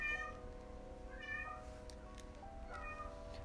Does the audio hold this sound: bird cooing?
no